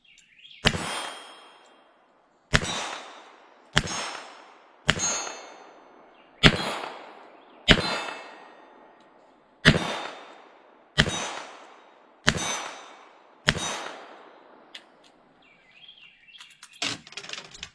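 Ten sharp metallic clangs from .22lr rounds out of a Colt King Cobra revolver striking big steel plates at about 15 yards, each ring decaying before the next, unevenly spaced and fairly close.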